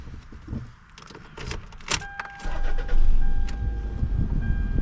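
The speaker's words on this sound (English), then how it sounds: "let's get this Toyota started up" A 2005 Toyota RAV4 starts up in hot weather at a dealership. Keys jangle and click at first, then the starter cranks briefly and the engine catches into a steady, close idle rumble with a faint electronic chime.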